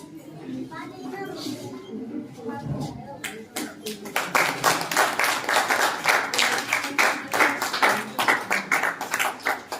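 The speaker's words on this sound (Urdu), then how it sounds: "تالیوں سے استقبال کرتے ہیں" At an award ceremony honouring Maulana Mohammad Wali Rahmani, applause starts as scattered claps under a voice and builds into steady, fairly close clapping from the audience that lasts through the second half.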